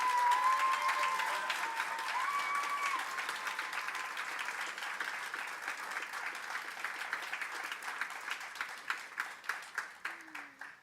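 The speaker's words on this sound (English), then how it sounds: "Please give them a round of applause." Sustained audience applause at a student government association induction ceremony, a dense steady clapping from a crowd that holds for several seconds and then thins into fewer, sparser claps as it fades out.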